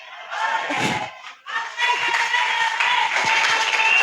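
A church congregation at a pastoral couple's anniversary celebration cheers, shouts and applauds loudly in a dense, sustained roar, with a brief dip before the noise swells again.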